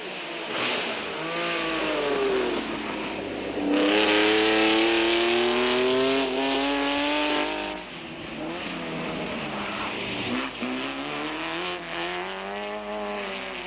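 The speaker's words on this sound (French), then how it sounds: "La MGA de Franck Duval. Et la Porsche d'Éric Van de Viver font le spectacle." Vintage race cars, including an MGA and a Porsche, racing on a track at a golden-age Grand Prix event, engines revving up and down through gear changes as cars pass close by, loud and continuous, with no talk.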